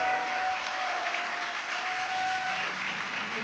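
Crowd cheers and applauds at a Dragon Freedom capsule splashdown off Florida, a steady broad wash of noise throughout with a faint sustained tone beneath.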